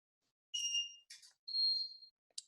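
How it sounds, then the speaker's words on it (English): A Cansec modular access control panel sounds a series of electronic beeps at a door, several short tonal bleeps of differing pitch separated by silence, clear and close. "that beep is coming from the access controller"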